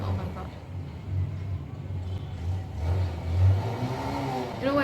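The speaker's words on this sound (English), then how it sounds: "this man is going like vroom vroom vroom with his motorcycle" A motorcycle engine revs outside on a humid day, a steady mid-pitched drone that swells and eases in waves over the whole stretch, with a voice nearby.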